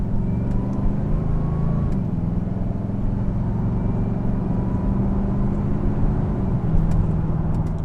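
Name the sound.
HSV LSA R8 Maloo Di Filippo exhaust drone, moderate acceleration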